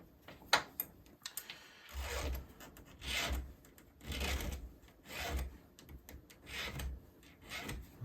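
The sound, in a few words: sharpening a chainsaw chain with a file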